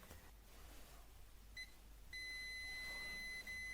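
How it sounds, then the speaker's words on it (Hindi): A multimeter set to continuity beeps while probing the pins of a 28-pin microcontroller IC on a battery inverter charging circuit board: a brief tone, then a steady high beep held for over a second, with no talk. "मल्टीमीटर देखिए मेरा कॉन्टिन्यूटी का रेंज पे है, आप सिर्फ साउंड को फॉलो कीजिए"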